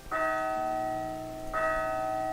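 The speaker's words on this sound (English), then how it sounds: "The tone given by the small silver bell seems wrong." A small silver bell in the video game Might and Magic VI rings twice, each a clear sustained chime with a sharp onset, the second strike following about a second and a half after the first and left ringing alone.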